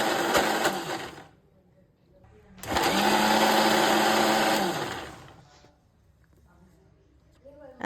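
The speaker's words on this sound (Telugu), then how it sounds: "ఇందులో మనం మధ్య మధ్యలో కొద్దిగా వాటర్ని కలుపుకుంటూ మెత్తగా" A kitchen mixer grinder whirs loudly while grinding chutney, running in two bursts with a short quiet gap between them, the motor steady and high-pitched before it winds down.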